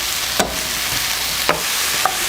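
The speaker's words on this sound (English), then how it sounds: "I want that nice sauteing" Vegetables with garlic sautéing in a pan for braised chicken, a loud continuous sizzle with three spaced scraping strokes of a spatula, close up and with no talking.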